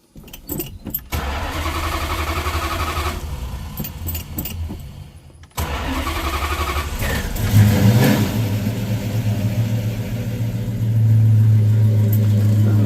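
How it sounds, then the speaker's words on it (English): A big block engine fitted with a big block starter cranks over quickly and catches, then idles and revs with a deep, loud roar that rises and holds steady toward the end. "I put a big block starter on here and this thing starts freaking fast"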